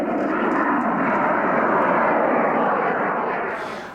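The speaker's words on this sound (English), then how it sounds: "The rocket fuel is burning its fiercest about 2 seconds after ignition" A model rocket engine burns in a loud, steady roaring rush of broadband noise just after ignition, sustained for several seconds before starting to fade.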